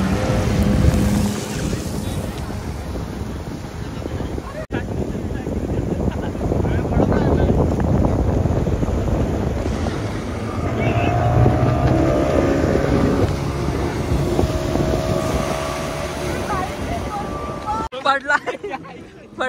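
A boat motors out to sea off Malvan beach, with a continuous engine drone, wind buffeting the microphone and sea noise. Voices can be heard now and then over it.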